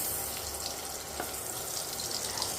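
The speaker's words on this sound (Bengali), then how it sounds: "তেলটাকে একটু গরম করে, আর দেখুন একটা ছোট্ট কিউব বাটার দিয়ে দিলাম।" A small cube of butter sizzling in heated refined oil in a pan, a steady, close hiss that runs unbroken throughout.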